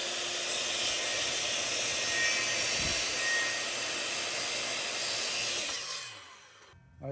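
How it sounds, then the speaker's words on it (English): A power saw mounted upside down cuts a coped profile in wooden trim, a loud, steady whine running continuously for about six seconds before it stops and spins down. "we're just gonna cope it with this saw while it's set up upside down."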